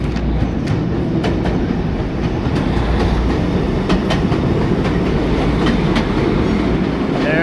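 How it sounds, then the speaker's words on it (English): Ottawa's O-Train light rail train rumbles steadily past nearby with rhythmic clickety-clack of wheels over rail joints, loud and continuous throughout. "There's Ottawa's public transit O-train. It seems to be working today."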